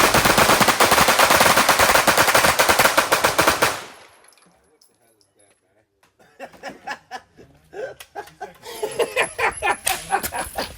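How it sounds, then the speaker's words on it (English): A Glock 17 pistol fitted with a conversion kit fires a rapid, loud automatic burst lasting several seconds, then cuts out to near silence before people chuckle and laugh nearby. "Your weapon, fire 1 round in 3 seconds."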